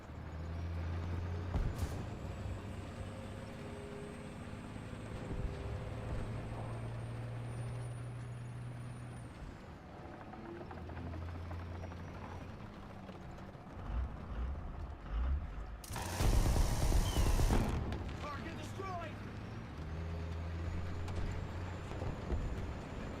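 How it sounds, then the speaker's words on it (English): Tank engine rumbling in War Thunder gameplay, a steady low drone across the clip with a harsh louder burst near the middle. "Hearing that engine, man."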